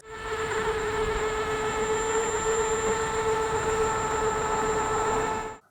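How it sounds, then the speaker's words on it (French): High, steady electric motor whine from a Begode EX suspension electric unicycle while riding, a thin sustained tone with several harmonics above soft road hiss, close and constant before fading out at the end. "le sifflement du moteur à l'arrêt est plutôt discret, mais se fait entendre en roulant."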